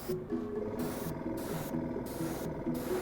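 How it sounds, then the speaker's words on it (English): An airbrush sprays thin acrylic paint onto a figure in several short hissing bursts with brief gaps, close and steady, over faint background music. "I'm using the airbrush to sort of capture the overall"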